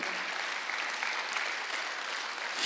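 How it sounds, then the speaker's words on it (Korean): Sustained applause from a church congregation during a Sunday worship sermon, an even wash of many hands clapping at moderate level with no voices over it. "박수 하나 더 주시오"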